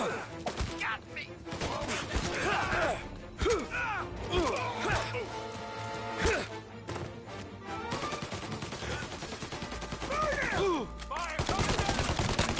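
Dense video-game gunfire crackles in rapid bursts and volleys across a battle, with mechanical clanks, loud and nearly continuous, while voices call out over the shooting.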